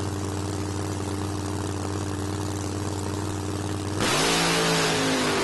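A nitro Funny Car with a Mustang body holds a loud, steady engine roar, then abruptly surges into a harsher, rising blast as the drag racing run begins.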